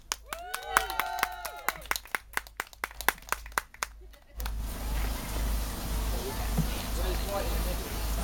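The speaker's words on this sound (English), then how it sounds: "round of applause, please" Scattered sharp claps with a faint whistling tone, then a steady, dense wash of crowd applause at an outdoor picnic event that carries on to the end.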